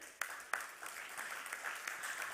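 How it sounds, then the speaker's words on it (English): Audience applause fills an awards ceremony for an Asian insurance industry event, a dense steady clapping that carries on throughout, with a couple of sharper louder bursts near the start. "put a huge round of applause for Myanmar as well"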